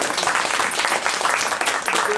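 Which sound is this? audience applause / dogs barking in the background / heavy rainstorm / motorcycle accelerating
audience applause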